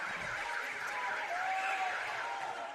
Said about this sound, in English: There is the siren.